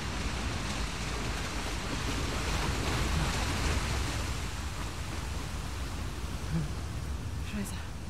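Steady, broad rushing water in the video game Uncharted: The Lost Legacy, a continuous loud wash like surf or a torrent filling the whole scene with no clear breaks.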